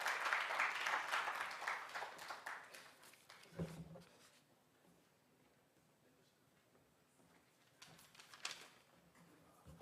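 An audience at a launch event for International Zero Tolerance for FGM in Moroto District applauds after a speech. The broad clapping rises first and then fades after a few seconds into quieter room noise and a few faint later sounds.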